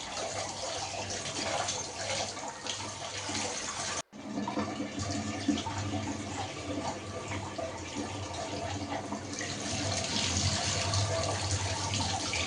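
Tap water running steadily into a sink while flat beans are washed, a continuous close splashing with a brief cut near the start and a slight rise toward the end.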